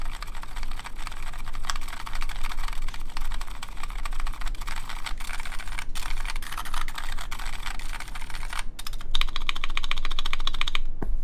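Rapid, steady clacking of keys on a custom mechanical keyboard, an ECMX-style Blue Ridge build with cherry profile keycaps, typed continuously up close with a few louder spacebar thumps near the end.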